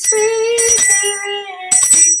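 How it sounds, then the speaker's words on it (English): Bells ring loudly in a sustained, bright sequence of clear overlapping tones, with a fresh burst of strikes near the end and no talking. "when the bells are sweetly ringing"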